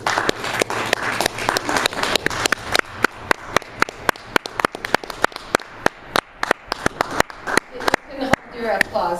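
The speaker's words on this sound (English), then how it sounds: "Your applause." Applause from a small group, with distinct individual claps close by that thin into sparser, separate claps toward the end.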